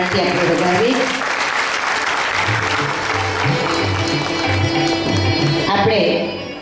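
An audience at a seniors' celebration event bursts into loud, sustained applause to welcome a guest, the clapping steady and dense throughout before tapering off at the end.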